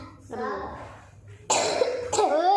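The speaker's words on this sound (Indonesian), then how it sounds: "Batuk Bang." A few close, harsh coughs in quick bursts, mixed with a voice and throat-clearing sounds during a Quran recitation class.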